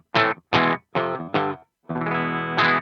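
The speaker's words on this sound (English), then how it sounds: "you still get that distortion. You hear that? That's that Marshall breakup." Distorted guitar through a Marshall-style amp modeled by the ML Sound Lab AMPED GNR: four short crunchy chord stabs with audible breakup, a brief pause, then a longer sustained ringing chord, played alone with no talking.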